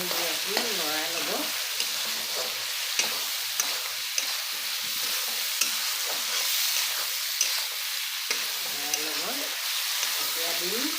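Cumin seeds frying in hot oil for a duck curry, a dense steady sizzle with soft stirring scrapes; brief faint voice-like murmurs rise in the background at the start and end.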